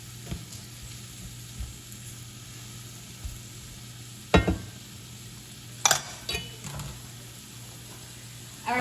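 A soy sauce mixture for garlic butter steak simmers and cooks down in a pan under a low, steady sizzle, punctuated by a few sharp utensil clinks and scrapes.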